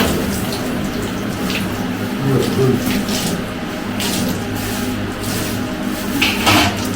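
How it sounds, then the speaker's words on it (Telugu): Water is poured out over a Shiva linga in a temple, a steady rushing splash that runs the whole time at moderate level, with voices in the background. "దీంతో తీసి నీళ్ళు మొత్తం పోయాలి"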